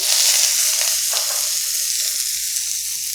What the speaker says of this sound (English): I'm going to add in about half a teaspoon of oil. Going to add in about a teaspoon of garlic,